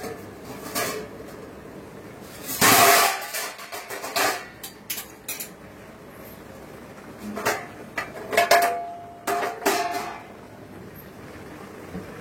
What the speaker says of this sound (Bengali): এবার আমি ওইটা ঢাকাটা খুলে নিচ্ছি।